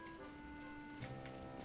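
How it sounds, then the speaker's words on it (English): Steady synthetic rainfall in the Garry's Mod weather mod during a video game thunderstorm, a continuous hiss of drops on surfaces, fairly loud and unbroken, with faint tonal game sounds layered underneath and no talking. "oh my god, look at all that rain"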